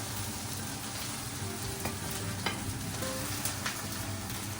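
Steady, loud sizzling of potato pancake batter frying in hot oil, a dense crackling hiss with occasional sharper pops, close by and uninterrupted.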